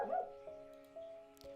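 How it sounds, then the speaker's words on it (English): A small video-game dog named Fluffy gives a few short, quiet, yippy barks in quick succession, heard alone without talk. "The die showed 4 and he barked 4 times"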